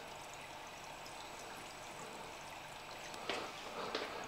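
Water pours into an aquarium in a soft, steady stream, quiet and continuous, with a couple of brief louder splashes near the end.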